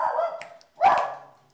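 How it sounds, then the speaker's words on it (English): A dog gives two short, sharp barks close by, separated by a brief pause, with no talking over them. "the dog barking"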